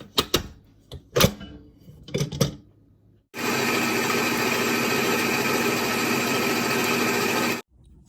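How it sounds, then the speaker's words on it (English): A KitchenAid stand mixer whirs steadily at high speed, beating egg whites with half a teaspoon of salt, a loud continuous motor drone lasting several seconds after brief handling clatter. "I'm going to put it in my KitchenAid mixer and let it beat with half a teaspoon of salt"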